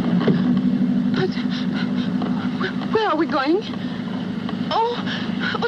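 A 1938 Parisian romantic comedy's car drives on with a steady, low motor hum and faint rushing wind beneath, while people talk over it throughout.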